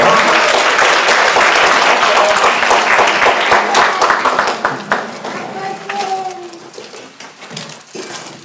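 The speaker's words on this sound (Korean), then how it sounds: "님 올라오실 때 큰 박수로 환영하도록 하시겠습니다." An audience gives sustained, dense applause to welcome a speaker at a church seminar, loud and steady at first, then thinning toward the end with scattered claps.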